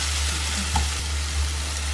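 Onion and tomato frying in a pan for egg bhurji, stirred now and then: a steady broadband sizzle with a low hum beneath and a couple of soft utensil scrapes, no voices.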